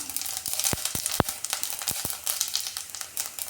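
Cumin seeds crackle and sizzle in hot oil for jeera rice, a steady hiss broken by sharp pops and spits, close and fairly loud.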